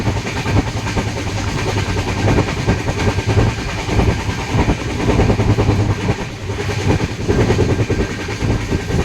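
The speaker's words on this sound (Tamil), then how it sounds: "ட்ரெயின் நதியில் போகும்போது அதோடைய சத்தத்தை கேளுங்க, அவ்வளோ வித்தியாசமாக இருக்கும்." A train rumbles loudly and continuously nearby as it crosses a river bridge, wheels clattering over the rails in a steady roar with no pause.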